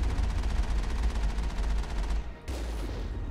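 Rapid automatic gunfire in the video game Mass Effect rattles continuously and loudly, with a brief dip near the end before the shooting carries on.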